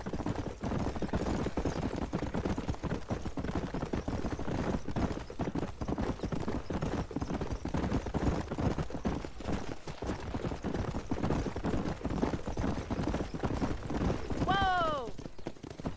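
Horses clip-clop steadily in the Red Dead Redemption video game, a dense, even run of hoofbeats that lasts throughout, with a brief whinny near the end.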